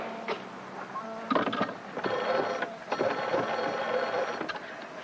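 A shore telephone on a waterfront rings with repeated electronic trilling bursts over a steady mechanical hum, fairly loud and close, with no talk.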